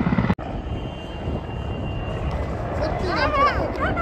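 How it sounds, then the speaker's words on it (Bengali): A helicopter passing overhead at a roadside stop, its rotor and engine drone a steady wash that swells toward the end, with people talking over it. "হেলিকপ্টার আসছে গাইস।"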